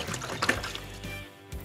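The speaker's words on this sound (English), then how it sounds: "I'm going to wash my hands." Hands are washed under running water, a soft, close splashing and trickling stream with small dribbles that fades slightly toward the end.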